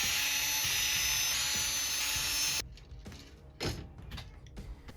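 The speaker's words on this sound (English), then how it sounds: "To remove the AC circuit board, we will need to take off 4 screws." An electric screwdriver whines steadily while it removes screws from the AC circuit board cover inside a JBL PartyBox 110 speaker. The whine stops partway through, and quieter clicks and handling noises follow.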